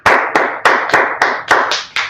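Enthusiastic clapping from a group, with sharp rhythmic bursts about every quarter second, loud and close, no talking.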